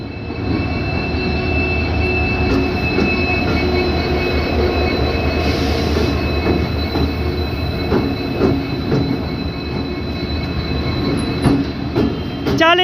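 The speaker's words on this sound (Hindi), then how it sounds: "हमारी ट्रेन आ गई है।" The Kathgodam Lucknow Express rolls into a station with a loud, steady rumble of wheels on rails, metallic squeals and rhythmic clatter.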